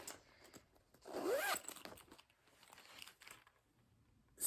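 A zipper on a new raven-themed Nevermore-pattern bag with skull zipper pulls is drawn in one quick rasping pull, close and fairly loud, then smaller handling rustles and a brief zip at the end.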